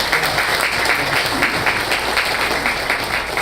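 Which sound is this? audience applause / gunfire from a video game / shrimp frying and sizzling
audience applause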